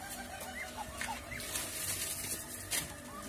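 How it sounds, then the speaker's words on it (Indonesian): Chickens cluck and scratch as they eagerly peck at chopped banana stem, a busy, close, continuous flock sound with occasional soft squawks over steady background noise. "Kita lihat bagaimana ayam sangat lahap sekali untuk memakannya,"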